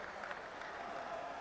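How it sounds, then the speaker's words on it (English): Crowd at the Monsoon Pickle Ball 2025 match cheers and applauds in a steady, even wash of clapping and voices that holds throughout, slightly distant and fairly quiet. "The crowd loves it."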